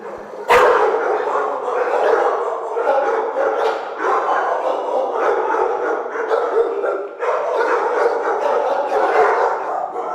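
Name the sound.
blue pit bull dog barking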